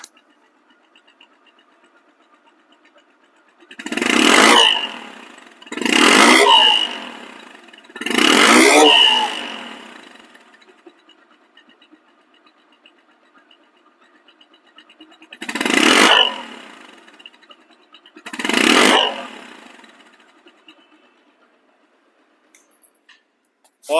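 A Bajaj Discover 135cc motorcycle engine revs in five loud, separate bursts, three close together and then two more after a pause, each falling back to a quiet idle.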